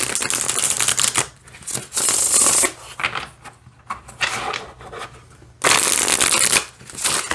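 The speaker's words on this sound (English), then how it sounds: "So, I'm not mad at the shuffling at all. It's really nice. It feels really smooth." A Tarot de Marseille card deck is shuffled by hand in several bursts of close, crisp riffling and flicking, separated by quieter pauses of card handling.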